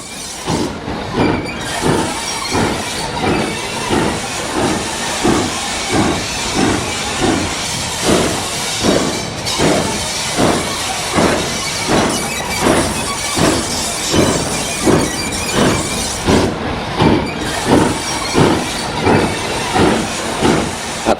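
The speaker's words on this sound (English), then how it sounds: "Hunslet Austerity 3212 of 1940 shunts the main yard." A Hunslet Austerity steam locomotive, built 1940 and formerly War Department stock, shunts in an industrial main yard, its loud, steady exhaust beats chuffing rhythmically about twice a second over continuous hiss for the full length, with no talk.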